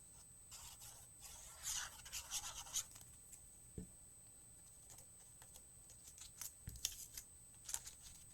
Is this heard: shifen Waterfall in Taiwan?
no